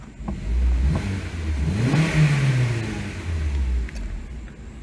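A 2007 Honda Civic's engine revs up and settles back, a steady near mid-pitched drone with one rising swell, no talk over it.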